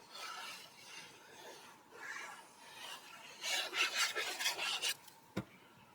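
Paper being burnished by hand while decorating a recipe album, a soft dry rasping rub in repeated strokes, quiet at first and then louder and quicker toward the end, with one sharp tap near the close.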